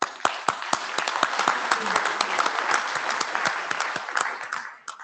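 An audience at an IETF plenary session applauds in a steady, dense burst of clapping that fills the room, fading out near the end.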